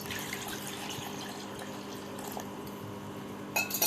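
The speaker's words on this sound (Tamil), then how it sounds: "இப்போ அந்த தண்ணியை சேர்த்துக்கலாம்." Cooled, strained hibiscus water pours steadily into a glass with a soft trickling splash, followed by a brighter clink and splash right at the end.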